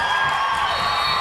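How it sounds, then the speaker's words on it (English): A loud, sustained roar from the Ludlow crowd at a boys district tournament basketball game, with cheering and whoops blending into a steady wall of noise during a brief moment with no commentary. "Here's the Ludlow crowd getting loud."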